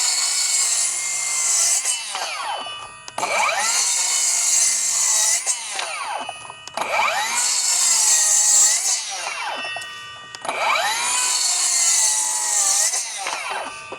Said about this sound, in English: Let's go into what most people are gonna do and do a little bit of cross cutting.